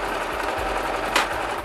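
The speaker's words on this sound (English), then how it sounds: "Now we change the stitch length down to 1." A sewing machine runs close up at short stitch length, sewing a box hem on nylon with grosgrain ribbon, in one continuous burst of rapid mechanical stitching.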